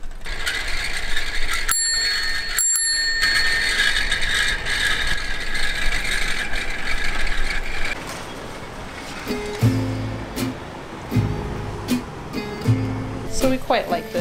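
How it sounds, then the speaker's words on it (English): A Dutch bicycle rides along outdoors with steady rolling and mechanical noise, a bicycle bell rings briefly early on, and voices talk near the end. "No trip to the Netherlands would be complete without riding on a real Dutch bike."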